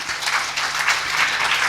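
A seminar audience applauds in a steady wash of many hands clapping, moderately loud and continuous throughout with no talking over it.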